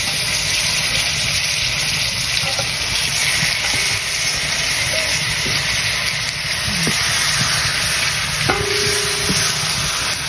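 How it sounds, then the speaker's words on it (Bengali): Potatoes fry in hot oil in a wok while being stirred, destined for a mashed bharta, giving a steady, close, loud sizzle with occasional scrapes of the spatula and no talking. "ভর্তার জন্য আলুগুলা ভাইজা নিব"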